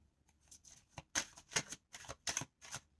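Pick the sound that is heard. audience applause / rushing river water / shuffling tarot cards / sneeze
shuffling tarot cards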